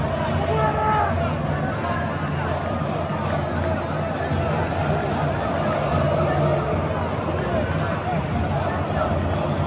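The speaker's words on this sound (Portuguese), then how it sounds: "Olha a vaia da torcida pros caras." A stadium football crowd boos the arriving São Paulo players, a dense continuous roar of jeering voices filling the space, with nearby chatter mixed in throughout.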